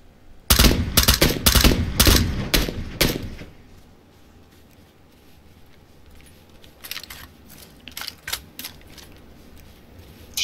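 Rapid bursts of gunfire in PUBG crack out loud and close at the start, then sporadic distant shots pop again later over a quiet background.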